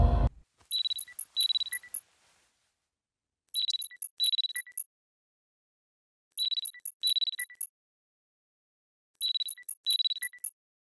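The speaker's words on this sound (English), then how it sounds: "The alarm is ringing." An alarm rings in the Parasocial video game: a bright electronic chime melody repeats in four separate bursts, each made of two quick phrases, with silence between them and a low thump at the very start.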